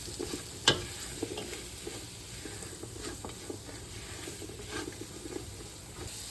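Beef seasoned with black pepper and salt, stirred in a hot pan for a Persian beef and green bean dish, gives a soft, steady sizzle with a sharp utensil clack near the start and light scraping throughout.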